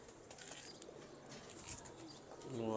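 Pigeons of a prized breed cooing nearby, soft low coos under a background of chirps and ambient rustle, with a louder coo rising at the end.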